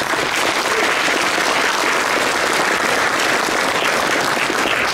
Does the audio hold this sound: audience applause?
yes